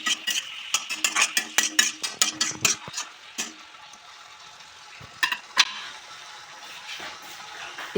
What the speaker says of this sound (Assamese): নিমখ আৰু হালধি গুড়া দিয়াৰ পিছত মই অকণমান দেৰি ধুনীয়াকৈ লৰাই লৈছোঁ।